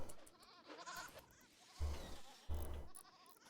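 Goats bleat in the Rimworld video game, two low, drawn-out calls about a second apart over soft ambient game sound, moderately faint.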